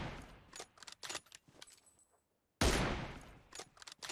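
Close gunshots in PUBG Mobile on the Erangel map come as rapid bursts and single cracks, then stop briefly before a loud blast of fire returns. A faint short tone is heard earlier.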